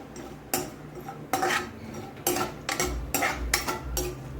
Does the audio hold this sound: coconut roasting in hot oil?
yes